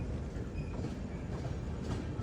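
Kochuveli–Shalimar AC Superfast Express running non-stop toward Rajahmundry: a quiet, continuous low rumble of the moving train with faint rolling noise, no talk.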